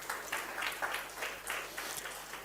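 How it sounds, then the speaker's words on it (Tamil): A church congregation claps together during a Tamil Christmas sermon, a soft, fairly distant patter of applause with slight rhythmic swells and a faint low hum underneath. "கைத்தட்டி ஆண்டவருக்கு மகிமையை கொடுப்போம்."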